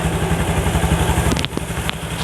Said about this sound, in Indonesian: Sekarang kita tes hidupkan motornya.